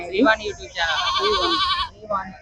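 A sheep gives a long, wavering nasal bleat close by at a sheep and goat market in Chillakallu, with shorter bleats around it and people talking nearby.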